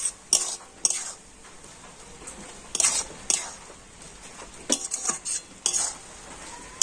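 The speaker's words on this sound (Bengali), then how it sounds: "সবকিছু খুব ভালো করে নাড়াচাড়া করে নিচ্ছি।" Grated raw papaya with spices and green chillies is stirred in a pan, making repeated scraping and clinking bursts of a utensil against metal, close and moderately loud, over a faint background hiss.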